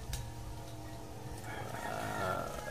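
A small Boston gamefowl rooster crowing once, a faint drawn-out call rising over low background noise in the second half, with no talking.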